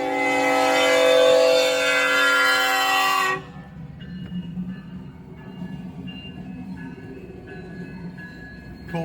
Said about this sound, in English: Coal train. It's going to be a mile long.